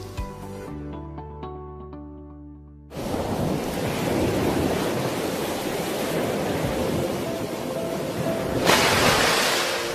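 Ocean waves roll in a steady, loud wash of broadband surf, following a short stretch of music, continuing without talk and swelling slightly near the end.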